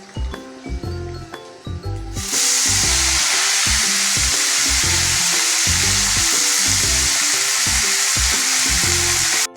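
Chopped onion greens hit a hot pan and break into a loud, steady sizzle, with rhythmic stirring strokes clattering throughout, close and continuous.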